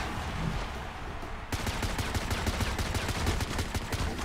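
Gunfire in the FRAG Pro Shooter video game, rapid bursts of repeated shots that start abruptly and continue densely for a few seconds, with no talking.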